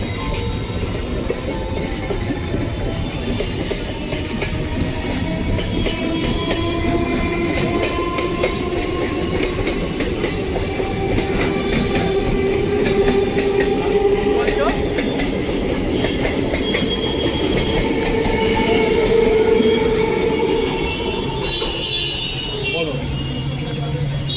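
A crowded passenger train runs into a station, its steady rumble and clickety-clack of wheels over rail joints continuous and loud throughout, with faint tonal squeals and background chatter.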